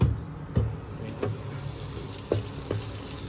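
Shallots fry in hot pork lard in a pan, giving a steady soft sizzle with several distinct louder crackles and pops spaced irregularly throughout.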